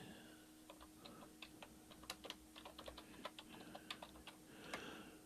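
Keys clatter on a computer keyboard while a greeting card is laid out in Photoshop, with irregular close taps and short bursts over a faint steady hum and no talking.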